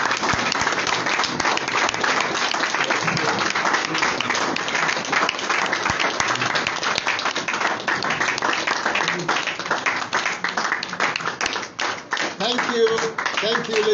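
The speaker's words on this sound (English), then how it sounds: "Rise up and clap for leader." Sustained applause from a standing audience at a public lecture, dense steady clapping filling the whole stretch with a crowd murmur underneath, tapering slightly toward the end.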